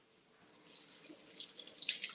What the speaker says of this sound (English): So I'm going to rinse the basil.